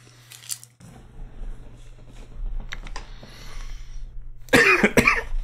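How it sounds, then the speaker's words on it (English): A cough from a person playing daily word games at a desk, heard as a close burst of two loud rough hacks near the end after a stretch of quiet tapping and faint room noise. "I've been coughing so much."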